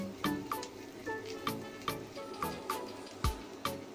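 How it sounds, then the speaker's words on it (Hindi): Spices frying in oil in a pan on a low gas flame for a dhaba-style gobhi matar paneer, soft crackling sizzle with regular small pops and clicks, fairly quiet and close. "मसालों को हम लो फ्लेम पे 2 से 3 मिनट के लिए अच्छे से फ्राई कर लेंगे"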